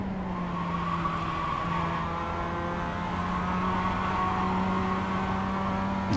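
A race car engine in a racing video game holds a steady, loud drone with sustained harmonic tones throughout, shifting only slightly in pitch as it runs at speed, with no voices over it.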